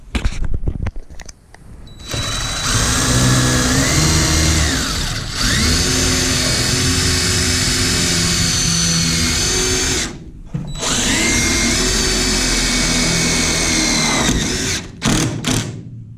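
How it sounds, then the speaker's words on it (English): A power driver sinks 2 3/4 inch wood-to-metal Teks screws into the ceiling framing of a school bus conversion, loud sustained whirring runs of several seconds each, with short clicks and brief pauses between bursts. "I'm just using these 2 3/4 wood to metal Teks screws, and I'm kind of screwing it under the angle so it hits the head channel"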